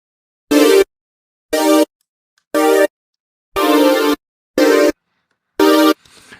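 Sustained synth chords chopped by a noise gate keyed to a hidden kick drum in Logic Pro, giving six loud, abrupt bursts of varying length separated by dead silence, with no other sound.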